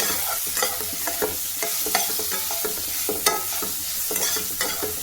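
Food frying in a pan with tomato and cumin powder, stirred with repeated scraping strokes over a steady sizzle, close and continuous with no talking.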